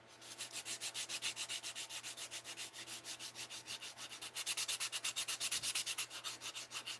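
Rapid back-and-forth rasping of an emery board's coarse side being worked over a craft piece, a steady rhythmic stroking of roughly three strokes per second that grows slightly louder and quicker near the end, close up and with no talking.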